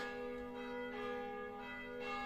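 Church bells ring steadily in the distance, their sustained tones overlapping in a soft, continuous wash of ringing.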